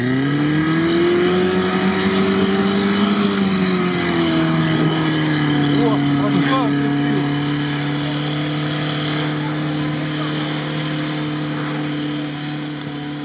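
An off-road SUV engine under strain, a loud, steady drone that shifts pitch and then settles, staying close throughout without speech.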